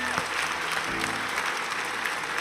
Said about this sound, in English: Give her a massive round of applause, yeah?